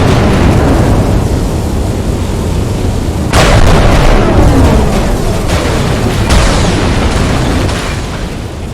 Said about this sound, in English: Apparently I like big explosions.